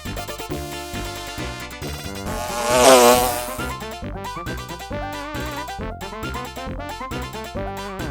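Honeybees and bumblebees buzz continuously over layered tonal sound, swelling loudest around the middle and then settling into a steady hum.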